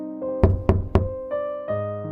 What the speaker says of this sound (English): He had tried knocking on it multiple times.